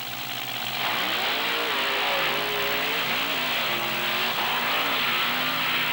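Monster trucks at a 1997 beach event launch off the starting line with loud, close, roaring engines that rise and rev steadily and fill the whole stretch, with no talking.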